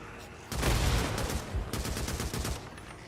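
Rapid automatic gunfire in the video game Days Gone, shooting at the ground, erupts after a brief quiet start and continues in dense loud bursts to the end.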